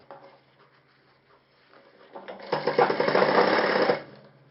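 A sewing machine stitching a shirt collar starts softly, then runs in a loud, fast, steady whir for about a second and a half before stopping, close by and heard alone.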